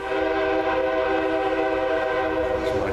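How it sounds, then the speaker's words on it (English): A passing train sounds its horn in one long, steady, multi-tone blast, loud and sustained over the low rumble of the rail cars. "There's my train again."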